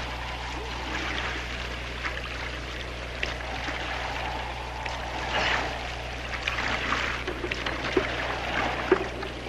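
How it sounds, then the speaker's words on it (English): Paddles dip and splash as a raft is paddled across open water, giving irregular soft sloshes and trickles over a low steady hum, with a few sharper splashes near the end. "You're paddling in the wrong direction, huh?"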